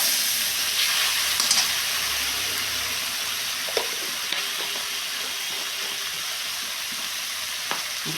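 Spices frying in oil in a pan for a potato and soybean curry, a soft steady sizzle with occasional stirring clinks and scrapes, no voices.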